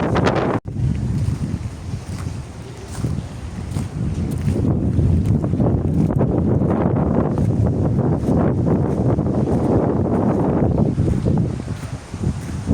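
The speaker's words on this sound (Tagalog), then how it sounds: "Medyo mahangin." Strong wind roars and buffets the microphone continuously at Nagoya Castle, Japan, a heavy low rumble that swells and stays loud throughout.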